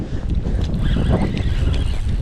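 Steady, loud wind rushing and buffeting against the microphone beside a canal while spinning for pike, a continuous low roar with no clear breaks.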